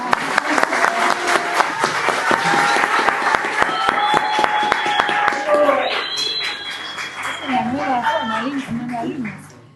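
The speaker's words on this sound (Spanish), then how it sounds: "Otro aplauso." Audience at a book presentation claps in a dense, steady round of applause, fairly loud and nearby, while voices talk and call out over it and the clapping thins toward the end.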